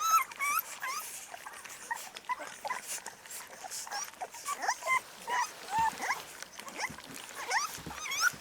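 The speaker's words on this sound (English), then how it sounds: "That's her barking in the background." A mother Alapaha Bulldog cross American Bulldog, shut away from her puppies, barks and whimpers repeatedly in the background, moderately distant, in a steady series of short yelps.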